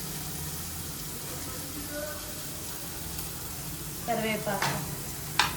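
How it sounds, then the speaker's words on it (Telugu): Vegetables with curry leaves for crispy corn frying in a pan give a soft, steady sizzle that grows livelier toward the end with stirring scrapes, while someone talks over it. "వీటన్నిటిని ఫ్రై చేసుకోవాలి"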